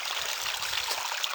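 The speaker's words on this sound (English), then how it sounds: "the road does come right down to the creek here" A creek flows beside a road on a gold claim at Blakeburn Creek, a steady close rush and trickle of running water, continuous and fairly loud with no voices.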